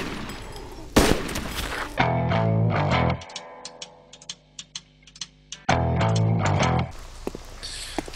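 An M240 machine gun in DayZ fires in sustained loud bursts, broken by a stretch of quieter clicking and single reports before heavy automatic fire resumes, close up with no talking.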